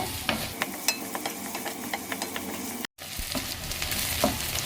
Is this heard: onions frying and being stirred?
yes